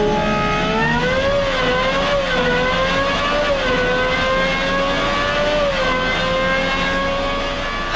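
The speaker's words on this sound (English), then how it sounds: "This is the world's highest revving road car engine ever at" Gordon Murray T.50 supercar with its Cosworth V12 revving hard, a loud, steady high-pitched engine note rising and falling slightly as the revs climb, heard alone and close.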